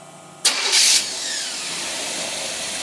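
A Cadillac engine fitted with a Carter AFB carburetor cranks briefly, then catches and fires up, settling into a steady idle close by.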